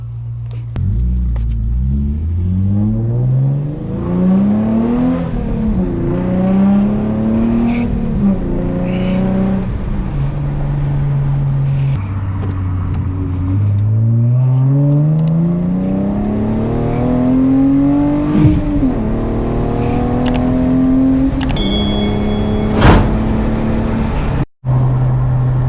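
A Hyundai Genesis Coupe drives on the road, the engine heard from inside, loud and close, climbing in pitch through each gear and dropping at every shift, with several repeated acceleration runs.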